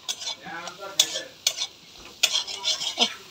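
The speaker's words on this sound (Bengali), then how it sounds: "এখন আমি ভালো করে এটা কষাবো আর কি" Curry sautéed in a pan gives off a loud sizzle, broken by several sharp scrapes and clanks as a spatula stirs and strikes the pan in quick, uneven strokes, close and alone.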